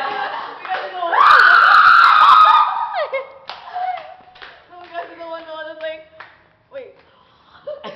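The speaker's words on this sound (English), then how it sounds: "Ready. Set. Ready. Ready. Scream." A group of people screams together on cue outdoors in a park, a loud burst of massed voices lasting about two seconds, followed by scattered laughter and chatter.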